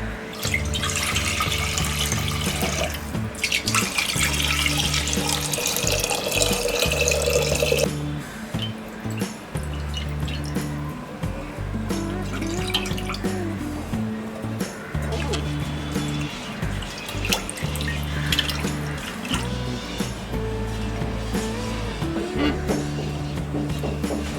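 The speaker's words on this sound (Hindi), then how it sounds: "ये स्टार्च वाटर हम ये कुकिंग वेसल में पोर करेंगे।" Rice starch water is poured into a clay cooking pot, with a continuous splashing pour and dripping, close and fairly loud, while someone speaks over it in between.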